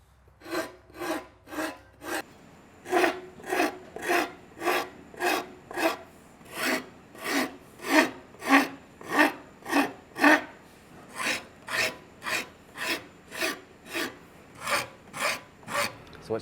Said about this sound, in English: You can also use a mill file or anything like that. And just real lightly trim that right to the back.